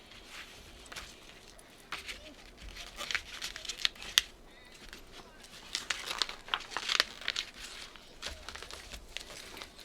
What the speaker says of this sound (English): You get your piece of paper and you put it back in.